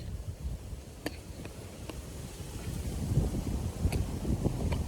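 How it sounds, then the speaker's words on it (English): Wind gusting across a carp lake, a steady low rush and buffeting against the microphone that swells slightly louder toward the end, with no voices. "The wind is currently blowing from the southwest"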